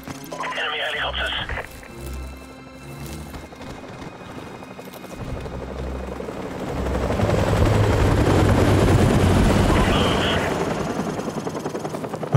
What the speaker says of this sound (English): Okay. Enemy helicopters.